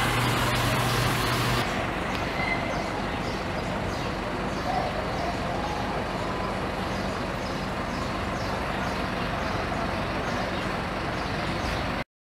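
A Lopes bus pulls out of a bus station in Ipatinga, Minas Gerais, its engine a steady loud rumble throughout with an air-brake hiss near the start and faint birds around it.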